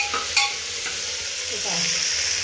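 Mixed vegetables for pulao frying in a pan, giving a bright steady sizzle with a spoon clinking and stirring through them, close, with no talk.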